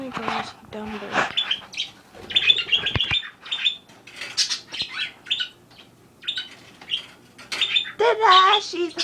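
Pet bird chirping and squawking in short repeated bursts close by, interleaved with someone talking.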